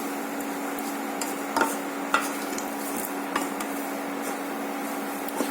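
A spoon stirring a semolina mixture for ravva laddu in a pan, soft scraping strokes with occasional sharper clinks against the metal over a faint steady hiss, no talking.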